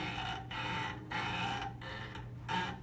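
Cello bow pressed and twisted into the string with arm weight, giving a quiet, eerie, creaking grind in about five rough rhythmic strokes, like a creaky door.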